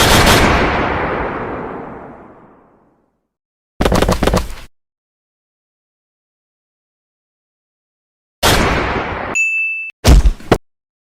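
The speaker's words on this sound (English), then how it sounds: "Men, we're shooting at the wrong guy. Mow him to the ground." Loud bursts of police gunfire aimed at a man, a long decaying blast followed by short separate volleys, with a metallic ring between the last bursts and no voices.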